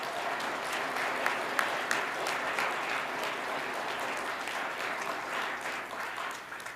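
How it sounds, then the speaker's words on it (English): Audience at a scout troop Court of Honor ceremony breaks into applause, a steady, fairly faint wash of clapping lasting several seconds with a few sharper claps standing out. "Did not expect the applause there"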